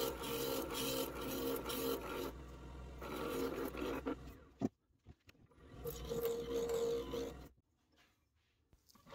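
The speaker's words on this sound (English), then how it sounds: "I'm using a roughing gouge here to round out, or get it fairly close to round" A wood lathe turning a duck call blank while a roughing gouge rounds it, giving a loud, close, rasping whir in long bursts separated by a quieter pause, ending in near silence.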